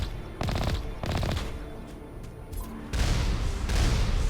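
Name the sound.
grenades exploding in the video game Mass Effect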